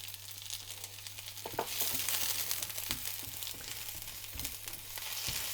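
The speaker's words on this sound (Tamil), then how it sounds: "கொஞ்சம் எண்ணெய் காஞ்சதுக்கப்புறமா வெங்காயம் வதக்கிட்டு அதுக்கப்புறம் வெஜிடபிள்ஸ் ஒன்றா போட்டு நல்லா வதக்கலாம்" Onions sautéing in hot olive oil in a pan for a simple vegetarian pie, a steady close sizzle with occasional stirring scrapes and clinks, no talking.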